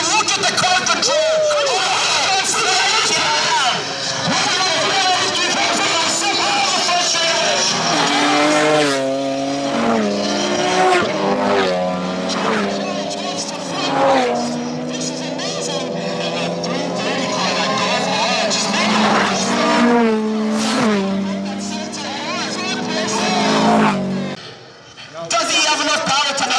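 Race cars including a BMW battle wheel to wheel around the Cayuga track at a time attack event, engines roaring loudly and continuously with rising and falling revs, gear shifts and tire squeal, under excited commentary.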